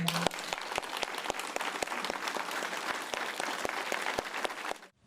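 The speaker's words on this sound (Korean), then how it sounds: "큰 박수 부탁드립니다" A crowd at a formal appointment ceremony, held in person with the president, gives steady, dense applause. Sharp, regularly spaced clicks sound through it, and it stops abruptly after about five seconds.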